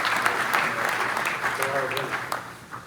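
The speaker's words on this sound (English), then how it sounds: "let's give City Barbecue a round of applause because they're fantastic food we're providing today" A high school football awards audience applauds the City Barbecue caterers. The clapping is brief and fairly close, with voices audible partway through, and it tapers off at the end.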